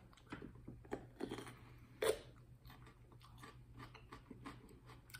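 Quiet crunchy bites and chewing of a raw pepper, one sharper crunch near the middle, with soft intermittent mouth noises throughout.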